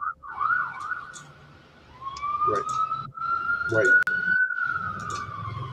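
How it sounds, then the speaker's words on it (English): A siren passes outside during a live broadcast. Its rising and falling wail carries on for several seconds under a person speaking indoors. "I know we got a siren going on"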